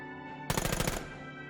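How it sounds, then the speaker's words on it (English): Gunfire in a VR video game aimed at beer taps: one rapid burst of about eight close, loud shots lasting half a second, over a steady tonal hum, with no talking. "You should definitely shoot the hell out of them"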